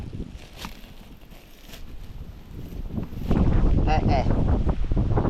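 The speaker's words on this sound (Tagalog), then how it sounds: "Diyos ko po ang hangin naman." Strong wind outdoors during a jackfruit harvest, gusts buffeting the microphone and swelling into a loud, rough roar in the second half, with people talking under it.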